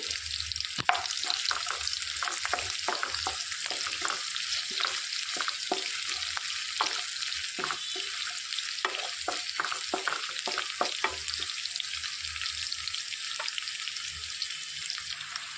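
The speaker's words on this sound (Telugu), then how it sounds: "ఇందులోనికి ఒక హాఫ్ టేబుల్ స్పూన్ మినప్పప్పు శనగపప్పు కలిపింది వేసుకొని వేయించుకోవాలి" Split black gram and chana dal frying in hot oil, a continuous bright sizzle with frequent spatula clicks and stirring taps, close and alone.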